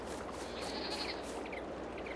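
Sheep bleating in Farming Simulator 22 on a sheep and goat pasture, a wavering bleat rising over a steady bed of farm ambience, with a couple of fainter answering calls afterwards.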